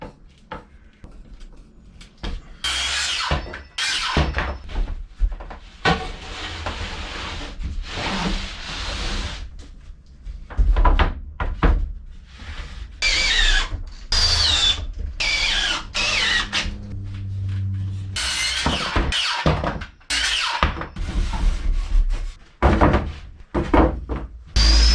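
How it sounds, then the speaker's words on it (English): Screws driven into a wooden bench on a boat restoration with a power drill, in repeated bursts of whirring and grinding broken by thumps, knocks and short pauses, loud and close. "let's put some screws in this"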